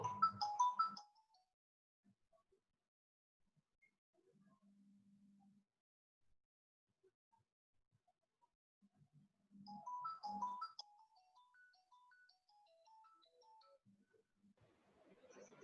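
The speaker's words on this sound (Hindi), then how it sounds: "अनुराग पांडे, आप फोन क्यों कर रहे हैं?" An incoming call sets off a mobile phone ringtone, a short melodic run of bright electronic notes that plays twice with pauses between, alongside brief bits of talk.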